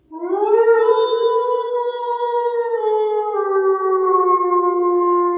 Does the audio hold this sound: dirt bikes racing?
no